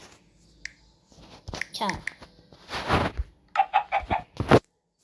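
Short, bright Minecraft chicken clucking bursts in a quick series of about five, following some speech-like sounds; sharp, clipped and fairly loud.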